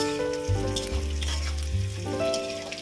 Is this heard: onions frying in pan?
yes